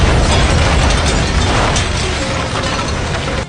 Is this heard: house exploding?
yes